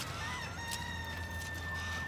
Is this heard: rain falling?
no